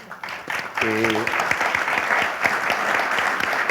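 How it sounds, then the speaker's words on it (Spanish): Applause from an audience at a strategic panel session, many hands clapping in a lively, slightly uneven rhythm, with a short voice heard briefly near the start of the clapping. "creo que se merecen este aplauso y muchos más"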